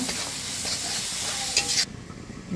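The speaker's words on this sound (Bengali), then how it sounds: "মশলাটা একটু ভালো করে কষাই নেব।" Spice paste of green chilies, chopped coriander, turmeric, chili and salt for a bottle gourd curry is stirred and fried in a pan, giving loud continuous sizzling with scraping stirs that cut off abruptly near the end.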